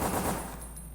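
Rapid weapon fire in the video game Dead Aim, a loud dense burst of quick repeated shots that fades over under a second, no talking.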